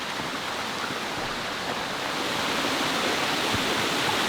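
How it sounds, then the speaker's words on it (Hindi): A mountain waterfall near Skardu, Pakistan, pours in a steady, dense broadband roar that holds level throughout and swells slightly toward the end, with no voices over it. "क्या खूबसूरत वाटरफॉल है यार।"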